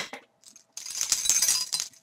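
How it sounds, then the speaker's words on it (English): A bunch of glass keys from a handbag jangles and clinks in a bright, busy rattle that starts after a short pause and keeps going for over a second, close and alone. "I've got my glass keys."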